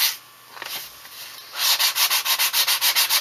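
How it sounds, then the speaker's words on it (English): 220 grit sandpaper rubs along the thin edge of hard tanned leather on a biker wallet, a brief scrape followed by a quick run of even, rhythmic back-and-forth sanding strokes, close and crisp. "This is just a 220 grit that I'm going over with it right now."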